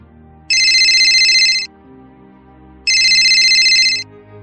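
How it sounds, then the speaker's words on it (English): A phone ringtone for an incoming call, two loud electronic ringing bursts of about a second each, separated by a pause, over a quiet low background. "Hannah turns on her phone and is called by her new boyfriend"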